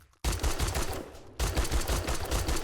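Rapid gunfire in the video game 7 Days To Die, firing 7.62 rounds: two dense automatic bursts, loud and close, with a short gap between them and no talk.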